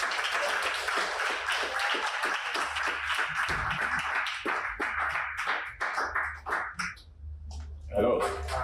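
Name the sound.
audience applause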